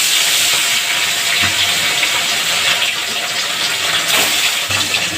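Fish dropped into hot oil in a heated karai (wok) for a Bengali fish curry with ridge gourd and potatoes, giving a loud, steady hissing sizzle that runs throughout, close and continuous with no talk.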